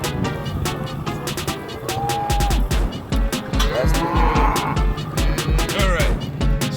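A herd of cows on a family farm gives drawn-out moos over a background of vehicle rumble and sharp clicks, the calls rising and falling at moderate distance.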